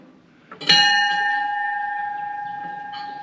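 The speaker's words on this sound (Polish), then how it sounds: "Jeżeli masz jakieś, kochanie, życzenie, to pierdyknij w ten dzwon." A wishing bell at a campsite in Fulda, Germany, is struck once with a sharp metallic clang, then rings on in a long, steady, slowly fading tone with clear overtones.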